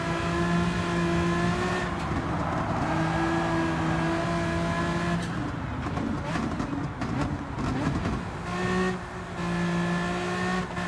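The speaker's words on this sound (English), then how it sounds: "this isn't bad to drive, considering it's a minivan" In Gran Turismo 7, a BMW minivan's engine drones steadily throughout, with shifting engine tones and tire noise as the car is driven through corners. It sounds loud and continuous, with no voice over it.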